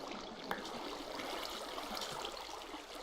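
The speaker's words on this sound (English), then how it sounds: "Now you can see the water spills everywhere." Flowing water in the Minecraft video game spilling out across blocks, a steady close hiss and trickle that runs unbroken throughout with no talk.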